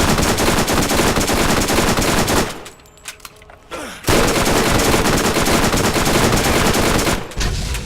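Rapid SMG gunfire in the Borderlands video game. Loud sustained automatic bursts pause briefly for a second or so, then resume hard and continuous, with a short gap near the end.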